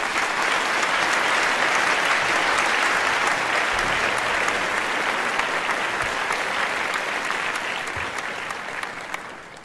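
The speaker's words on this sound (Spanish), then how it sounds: "Un fuerte aplauso, David." A strong round of applause from an audience at a Tesla Model S event, dense, even clapping lasting nearly ten seconds and tapering slightly at the close.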